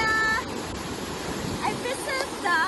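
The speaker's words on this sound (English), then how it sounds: "I visit the waterfalls in Hong Kong Island in Hong Kong" Steady rushing water from a waterfall on Hong Kong Island fills the scene, a constant broadband roar close by, with faint birdsong chirps over it and a voice speaking briefly.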